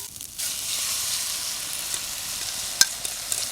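Eggs sizzle and fry in a pan alongside Brussels sprouts and bacon, a steady close crackle with a few sharper pops near the end, no talking.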